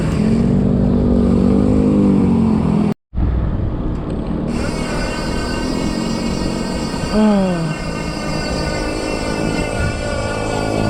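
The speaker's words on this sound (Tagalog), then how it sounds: "may truck sa unahan" A truck on the road ahead during a Father's Day bicycle ride toward Arco, its engine droning and shifting pitch under steady wind and road noise.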